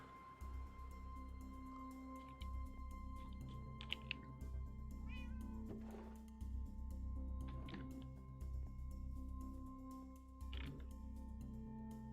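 Several cats meowing in the Minecraft video game, short mews scattered over about twelve seconds above a steady low in-game ambient drone, with no talking.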